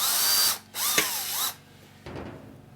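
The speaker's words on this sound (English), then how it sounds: "we're going to ream that out with an 8mm reamer" Reaming powder coating from a bracket on a VW Bus sunroof assembly with an 8mm reamer, giving loud grinding, ratcheting bursts with squealing tones, a brief gap, then a quieter scraping tail, close to the mic.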